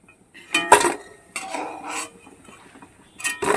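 Fried raw-potato pakoras being lifted out of a frying pan, with a few close metallic clinks and scrapes of a utensil against the pan in short bursts, no talking.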